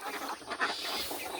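Village ducks being let out, a few faint quacks against a soft, noisy background, brief and fairly distant.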